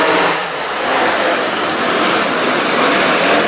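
WISSOTA late model race cars roar past on a speedway, a loud, dense engine drone with a broad rushing wash of sound that swells and sustains as the pack goes by.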